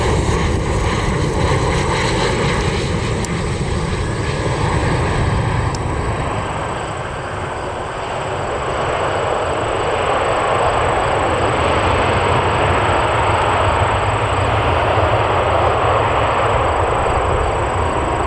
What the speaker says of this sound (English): Delta 2377 inbound from Atlanta.